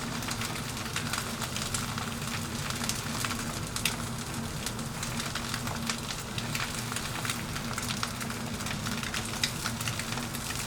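Eggs fry in a pan with a continuous dense sizzle and crackle, steady and close throughout, with a low hum beneath and no voices.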